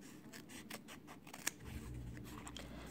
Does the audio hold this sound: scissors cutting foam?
yes